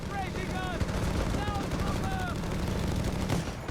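Bursts of machine gun fire from a Company of Heroes 3 battle, rattling under a busy mix of other gunfire and battlefield noise while a commentator talks over it.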